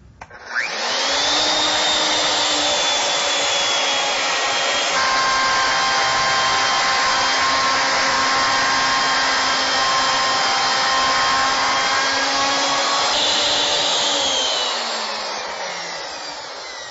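A milling machine cuts a workpiece, a loud, steady whine with sustained high tones and a broad hiss that starts abruptly, holds for most of the clip and tapers off at the end, with no speech.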